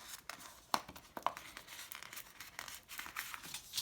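Crinkling and creasing of a 6x4 paper card as it is folded and turned, with several short crisp crackles spread across a few seconds, close and fairly quiet.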